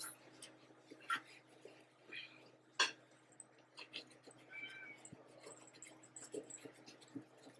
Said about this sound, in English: That's my little kitty.